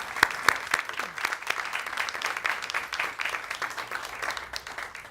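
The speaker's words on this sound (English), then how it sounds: "let's give them a round of applause" An audience in a room applauds the Voyager spacecraft team, many of them present; dense, sustained hand clapping with a few sharper claps, steady throughout.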